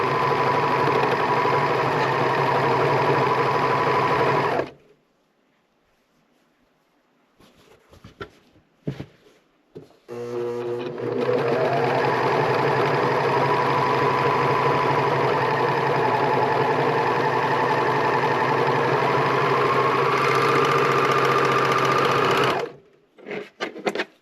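A serger stitches the fabric casing of a drawstring bag, running in long steady whirring bursts with a rapid mechanical chatter, stopping for a few seconds of near silence with faint handling before starting up again and running to the end.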